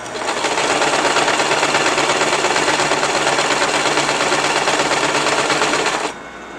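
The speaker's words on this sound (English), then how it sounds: "There's gonna be like a lot of sewing machine ASMR, just that chuk chuk chuk chuk chuk." A sewing machine stitching a petticoat runs in one steady, loud, continuous rhythmic whir close by, then stops abruptly near the end.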